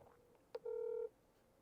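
A telephone call rings out on a phone line, a single short tone followed by a sustained ringback buzz of about half a second, clear and alone in a quiet background.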